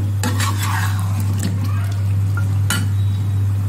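Chicken pieces fry in desi ghee over high heat, a steady sizzle with a strong constant hum and a few sharp clinks and scrapes of a spoon stirring in the pan, with no talking.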